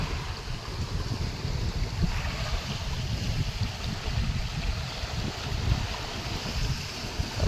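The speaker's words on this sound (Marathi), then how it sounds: "आणि खूप खूप खूप स्पीडनी ते पाणी जात आहे खाली" Fast-moving floodwater from an overflowing farm stream rushes continuously with a dense, roaring wash, steady and loud throughout with no pauses.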